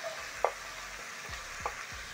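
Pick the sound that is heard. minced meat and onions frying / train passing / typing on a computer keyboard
minced meat and onions frying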